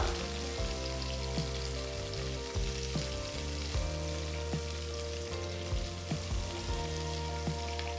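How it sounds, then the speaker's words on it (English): Thinly sliced onions sauté in a pan with a soft, continuous sizzle beneath a sustained tonal musical bed, punctuated by a few faint light taps. "Saute the onions till they turn to a nice golden color"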